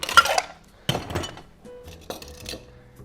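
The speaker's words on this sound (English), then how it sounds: "Gonna add some ice." Ice cubes dropped into a glass for a Reverse Manhattan cocktail, several sharp clinks and clunks in separate bursts, close and clear with no talking.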